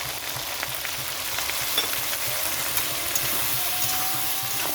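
Frying in a pan with salt, turmeric powder and cumin paste for a hilsa fish curry with taro, a loud continuous sizzle with occasional stirring taps and no talking.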